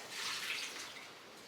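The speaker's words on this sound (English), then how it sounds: "I'm gonna use this up to water the strawberries" Water pours onto strawberry plants in a garden, a soft, brief splashing rush that swells and then tapers off, faint and close.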